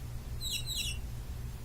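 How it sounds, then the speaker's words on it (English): Birds in the Final Fantasy VI video game give a few quick high chirps in a short burst over a low, steady game music bed, faint and brief. "Oh, the birds."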